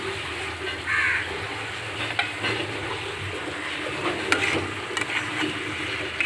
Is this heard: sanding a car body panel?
no